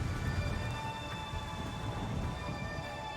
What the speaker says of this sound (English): the rain stops as soon as we're finished walking in it